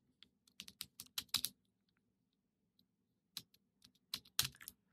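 Two bursts of quick typing on a computer keyboard, crisp clicking keystrokes close and quiet, separated by a pause with only a couple of isolated taps.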